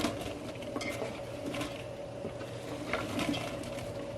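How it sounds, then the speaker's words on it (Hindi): Sliced onions go into oil heating on high heat in a pan for chicken biryani, a faint sizzle with light clinks of a utensil against the cookware. "हाई हीट पे ऑयल रख दिया है और इसमें प्याज जाएंगे"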